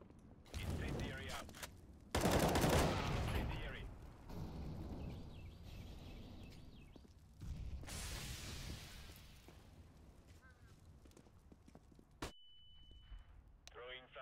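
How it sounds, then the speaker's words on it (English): Explosion and bursts of gunfire from an incendiary grenade in the video game L.A. Noire, with loud blasts early on, a busy stretch of combat noise, then a sharp cutoff and a steady tone near the end, with voices talking over it. "What did you throw at him that took so long to blow up?"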